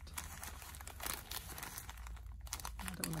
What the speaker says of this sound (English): And a lovely package opening now.